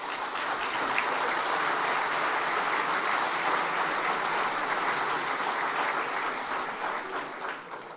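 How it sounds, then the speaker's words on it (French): A crowd at a New Year's greetings ceremony applauds steadily, a dense wash of clapping that holds for several seconds and then begins to thin out toward the end. "Et je pense qu'on peut les applaudir."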